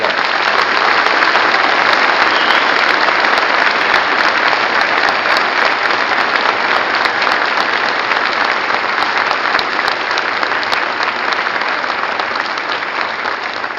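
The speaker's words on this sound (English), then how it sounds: "Please join me in giving them a well-deserved round of applause." An audience at an Army Combined Logistics Excellence Award ceremony gives the winners a loud round of applause. The clapping is dense and sustained, staying even for about fourteen seconds before easing slightly at the end.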